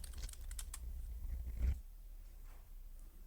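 A few quick, faint keystrokes on a computer keyboard fill the first second and a half, followed by near silence with soft room noise.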